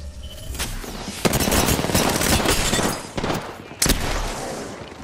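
Video game firefight with enemy team gunfire: a dense, continuous crackle of shots with a few sharp louder cracks standing out, close and loud.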